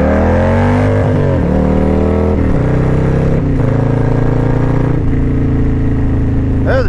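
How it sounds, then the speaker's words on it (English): Motorcycle engine revs through rising and falling gear pulls during a wheelie, loud and close with a steady mechanical whine. "That was a decent wheelie."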